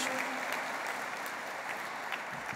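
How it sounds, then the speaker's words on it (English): A morning audience at a music event in Brisbane gives a round of applause, dense steady clapping filling the room throughout. "Can we just give them a round of applause this morning, please?"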